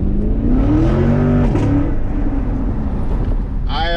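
Chevrolet Camaro SS with about 25,000 miles, its engine droning loud and steady while driving, pitch rising and falling with throttle changes and a brief higher whine near the end.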